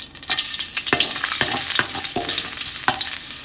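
Ginger sautéing in hot cooking oil, a bright close sizzle punctuated by several quick stirring scrapes in a short burst, no speech.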